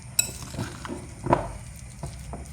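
A mixture of potato and minced meat is stirred in a bowl, with soft scraping and occasional clinks of a utensil against the dish, a few separate strokes close and fairly quiet, with no talk.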